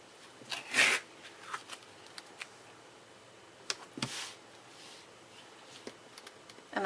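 Scissors snip through a strip of duct tape while making a bifold wallet. Brief crisp cutting bursts and small rustles come close and fairly quiet, with a louder snip near the start and another midway.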